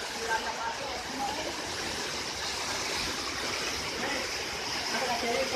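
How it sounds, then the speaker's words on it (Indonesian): Steady rushing water fills the scene near Curug Luhur waterfall in Pangalengan, a continuous broad wash of flow with faint voices mixed in. "Cileweng kan ada curug deh."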